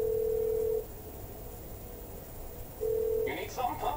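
A phone call to the mechanic in GTA 5: a steady ringback tone sounds twice, separated by a pause, with faint game background underneath and a voice starting at the end.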